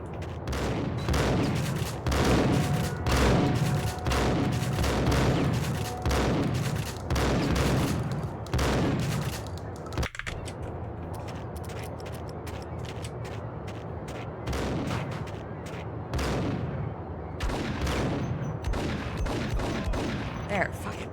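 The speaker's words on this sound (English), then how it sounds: "He has a shotgun. How the fuck is he able to shoot me from so far away?" Shotgun gunfire in the action game Max Payne, a rapid series of loud, punchy blasts in the first half giving way to sparser, scattered shots over a continuous background din.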